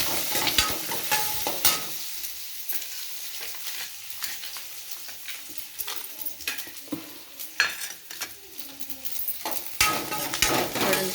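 Ingredients for mint chutney, including garlic, fry in a pan with a steady close sizzle, while a spoon stirs and scrapes with repeated clinks against the metal.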